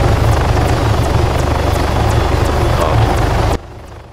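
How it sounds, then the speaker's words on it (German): Helicopter in the Arma 3 Altis Life video game, a steady loud rotor and engine drone with regular faint blade ticks, cutting off sharply near the end. "Ich komme mit einem Heli gerade rein."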